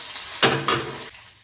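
Curry leaves tossed into hot oil already holding mustard seeds and dal for a South Indian tempering burst into a loud, close sizzle, with a second surge before quickly fading.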